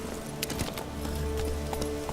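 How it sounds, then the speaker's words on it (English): Horse hooves clip-clop at a steady gallop while riding in The Witcher 3, a continuous rhythmic beat of hoofbeats set against game music, with no talking. "or we can ride the horse like a boss."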